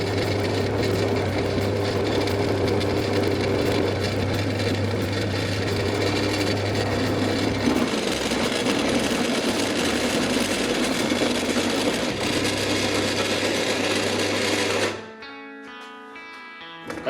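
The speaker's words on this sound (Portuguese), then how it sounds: "Vamos tentar furar esta de 10, vai demorar um bocadito, mas vamos ver se a máquina é capaz." A Parkside PTBM 500 bench pillar drill runs at 500 rpm as it bores a 10 mm hole, a steady motor hum and grinding drill noise that shifts partway through, then cuts out abruptly near the end.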